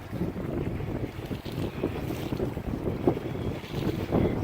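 Wind buffets a small bait boat out on open water, a continuous rough rumble of gusts against the microphone with faint water sounds underneath and no voices.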